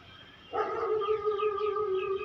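A dog on the street below a third-floor vantage point in Gwalior before sunrise gives a sustained howling, yipping call that starts abruptly and carries on steadily, fairly faint and heard alone.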